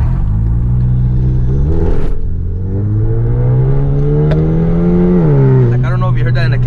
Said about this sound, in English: It does change your exhaust note a tiny bit.